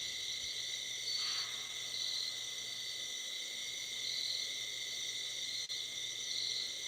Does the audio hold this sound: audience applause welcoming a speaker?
no